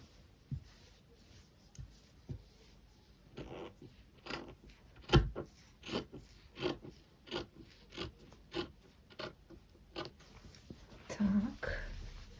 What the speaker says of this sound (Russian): Режем дальше, скорее всего.